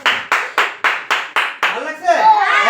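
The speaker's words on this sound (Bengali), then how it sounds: "এবার আমি তোমাদের জন্য হাততালি দিই" A teacher in a classroom claps hands six times in a steady, close rhythm, then a voice begins talking.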